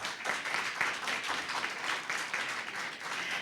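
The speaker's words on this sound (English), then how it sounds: "Another round of applause for Team Clear Hall, secondary." A debate audience breaks into dense, continuous applause after a speech, a steady crackle of many hands clapping at moderate distance with no talking over it.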